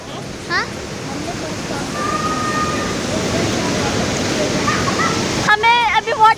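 Steady rushing water from a jungle stream near a waterfall makes a broad, loud hiss throughout, with brief voices near the start and a person talking over it at the end.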